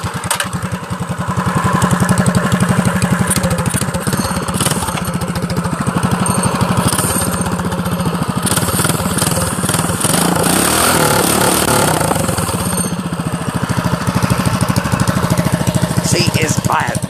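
A minibike powered by a Predator 212 engine runs steadily close by, its loud buzzing drone holding nearly constant for the whole stretch with slight rises and dips in revs.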